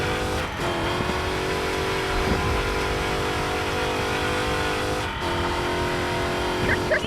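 A Dodge car engine roars in the mobile racing game Racing Master, with a steady revving drone running throughout and two brief dips where the sound drops out for a moment.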